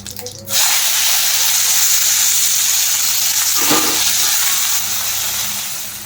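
Potatoes dropped into hot oil with cumin and bay leaf, after fish has been fried: a loud, steady, close sizzle starting abruptly and holding for several seconds, with a brief clatter partway and no talking.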